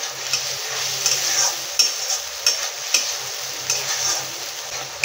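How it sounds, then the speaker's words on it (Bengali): Ground spice paste with turmeric and a splash of water sautéed in a pan for rui fish curry, the spatula scraping in regular strokes over a bright, hissing sizzle, with no talking. "মশলাটা একটু ভালো করে কষে নেব।"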